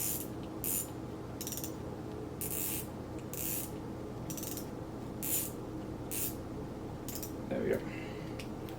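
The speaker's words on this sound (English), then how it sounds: "Now I want this to be spun real tight so that it actually grips around the spool properly." Ultra-light spinning reel winding nylon line onto a shallow spool, a steady soft mechanical whir with regular ticking pulses about every half second, fairly quiet and close.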